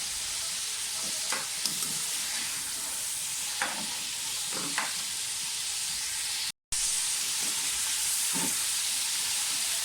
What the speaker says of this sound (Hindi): सिर्फ अपने गोश्त को बहुत अच्छी तरह से पहले भूनना होता है